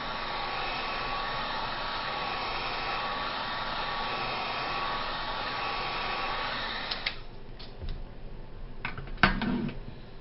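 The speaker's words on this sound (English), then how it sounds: "You want to grab your heat gun and just start going over it, drying it off." A heat gun blows a steady, loud whir while drying fresh white paint on Jordan Blaze 8 sneakers, then cuts off into a few clunks and handling knocks.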